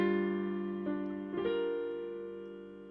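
A quick piano run-up of a few notes rising over sustained chords, played softly and close, with the notes ringing out afterward.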